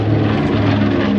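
A B-25 bomber roars loudly past at an airshow at La Ferté-Alais, its piston engines and propellers giving a dense, steady drone with no voices.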